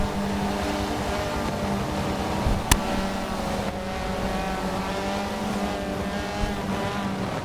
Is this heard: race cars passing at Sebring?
yes